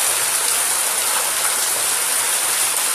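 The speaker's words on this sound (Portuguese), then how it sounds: "Ó, aqui é uma chuva maravilhosa." Heavy rain pours down in a dense, even wash of hiss, close and steady throughout, with no voices over it.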